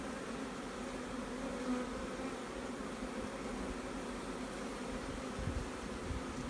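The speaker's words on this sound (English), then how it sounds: "It's hard to see with all the bloody bees in the way." Honey bees swarm thickly around an open hive on a queen-rearing farm, their steady, dense drone filling the air close by and continuing unbroken without any voices.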